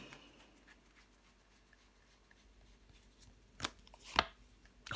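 A tarot card is laid down on a table in a quiet room, two soft, sharp slaps landing in quick succession near the end.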